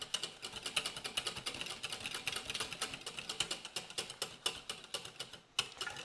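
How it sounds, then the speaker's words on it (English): A whisk beating egg yolks with chocolate cream in a bowl, a steady rapid clicking and scraping rhythm, close and fairly quiet, with no talking. "And to temper the yolks, you just add a little bit of the chocolate cream while you're whisking the yolks"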